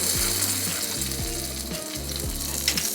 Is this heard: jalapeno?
yes